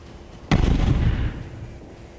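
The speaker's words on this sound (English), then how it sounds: "she suddenly heard a loud explosion behind her" A single loud explosion, the surface-to-air missile strike on an A-10 aircraft, bursts sharply and then rumbles and fades over about a second.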